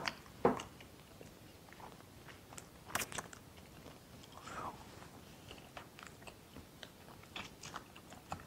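Someone bites and chews pieces from a Sichuan-style braised meat platter, giving soft irregular crunches and mouth sounds close by, with a few sharper bites and no talking.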